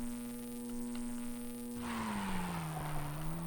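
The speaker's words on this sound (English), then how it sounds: "Don't let your car slide out too far." Sprint car sliding in the racing video game Mario Andretti Racing, a steady synthesized engine drone that shifts into a loud sustained tire-skid squeal as the car slides.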